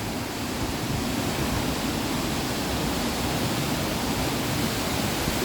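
The Darende Aşudu waterfall roars in a steady, dense rush, partly iced over in winter, with constant loud water noise and no voices.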